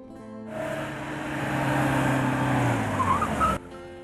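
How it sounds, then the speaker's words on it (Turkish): Car tires screeching on asphalt, a long loud skid that swells over about three seconds and then cuts off abruptly, with engine rumble beneath. "Acı çeken asfalt sesi."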